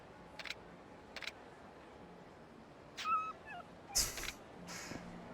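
A dog in Yakuza Kiwami gives a few short yips and whimpering barks, spaced apart over a quiet city background, growing louder near the end.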